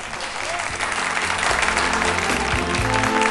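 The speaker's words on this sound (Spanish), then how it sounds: "Un aplauso grande." A crowd applauds at a reggae awards ceremony, dense continuous clapping that swells slightly while low sustained music plays beneath it, no voices on top.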